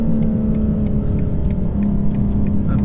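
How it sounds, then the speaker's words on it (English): A 2023 BMW M4 Competition xDrive's engine drones steadily from inside the cabin under hard acceleration, a dense low rasping hum with faint ticking on top and no voices. "Oh, you get a lovely rasp on the upshift."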